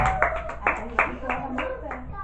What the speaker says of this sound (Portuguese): Uma salva de palmas para Jesus Cristo nessa noite.